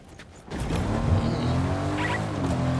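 A car in a video game revs up and drives, its engine rising into a steady, loud hum with a brief tire squeal, sounding close and continuous.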